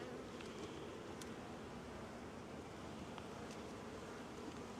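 Agitated honeybees swarm around a backyard hive, a dense continuous buzzing hum close by and steady, with a few brief higher whines of individual bees passing near.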